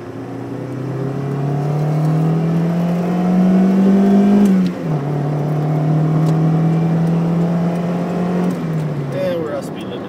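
A 1997 Saturn SL2 cruising on a freeway, its engine droning steadily with a brief dip in pitch as it shifts, then climbing again under road and wind noise.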